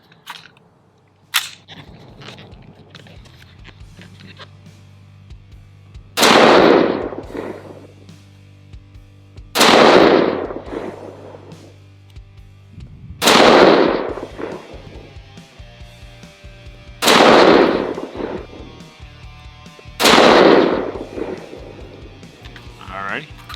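An AR-15 pistol chambered in 5.56 fires five single shots of Gorilla 77 grain Match King ammunition, evenly spaced a few seconds apart, each a loud booming report with a ringing decay, over a faint steady background hum.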